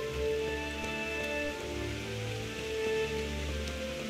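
Rain falling in the medieval game Kingdom Come Deliverance, a soft, steady hiss of drops that stays even and faint, with low tonal game ambience droning underneath.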